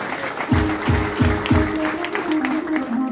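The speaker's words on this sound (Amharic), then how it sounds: "አጨብጭቡለት ጌታ" A church congregation claps in a steady, rhythmic beat at about two claps per second, with a musical tone sustained underneath.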